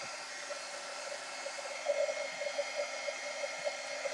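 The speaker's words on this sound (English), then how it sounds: "be careful with your heat tool or you'll end up blistering it" A heat tool blows steadily over acrylic paint on a cardboard box, giving a constant airy whir with a faint tonal hum and small fluctuations, close and continuous with no talking.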